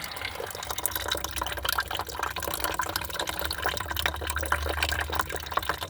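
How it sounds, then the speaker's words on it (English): Water draining out of a Ferrari 360, a continuous trickling, splattering flow with a low rumble underneath, steady and close for several seconds without talk. "Well, seems like the water is about done."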